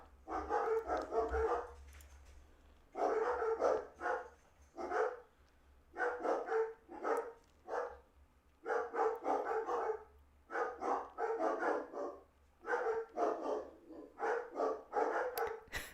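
Several dogs barking in repeated bursts of rapid barks separated by short pauses, fairly near and loud, with no talking.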